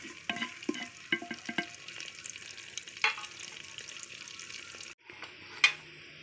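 Onion and four green chillies fry in a pan with a soft continuous sizzle, broken by repeated clinks and scrapes of a spoon stirring, several sharp taps spread through the short stretch, with no voices.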